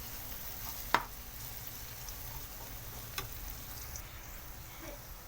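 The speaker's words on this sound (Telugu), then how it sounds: "టమాటాలు ఒకసారి కలుపుకున్నాము. ఆనియన్స్ ఫ్రై అయినాక కొద్దిగా పసుపు" Chopped onions and tomatoes fry in oil in a pan, giving a steady, even sizzle throughout, with a couple of light clinks from a stirring spoon and no talking.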